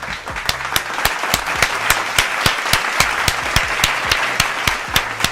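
Sharp, evenly spaced hand claps repeat in a steady rhythm, loud and close, with no talking over them.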